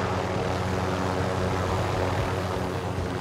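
A helicopter in Call of Duty: Modern Warfare roars close and loud throughout, a dense steady engine and rotor drone with no break.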